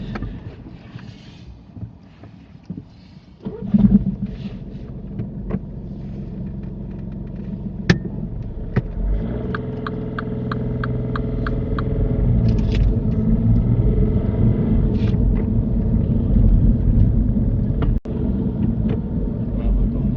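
A car pulls away on a steep hill during a driving test, heard from inside. Low engine rumble swells as it moves off, with a few clicks and beeps and a faint voice early on.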